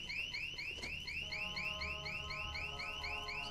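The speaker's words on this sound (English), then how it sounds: "Can I activate the alarm?" An electronic alarm blares in Dead Island 2, a loud repeating chirping whoop cycling rapidly and evenly over a low rumbling background, with no voices.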